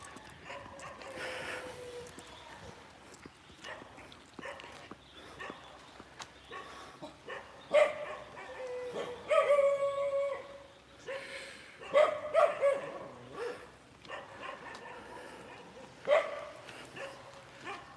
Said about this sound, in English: There must be 7 or 8 dogs at least, just right in this area.